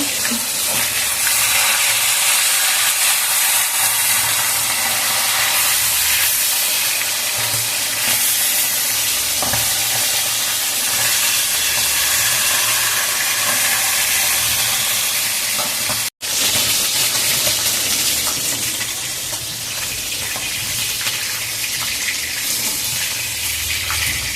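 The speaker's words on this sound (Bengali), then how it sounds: "এইবার এই পিস লাল লাল করে ভেজে নেব।" Fish frying in oil makes a loud, continuous crackling sizzle throughout, briefly cut off for an instant near the end before resuming.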